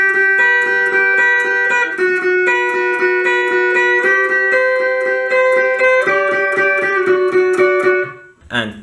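Electric guitar plays the solo from a song, a clean run of sustained melodic notes stepping through the phrase, loud and close, stopping abruptly near the end.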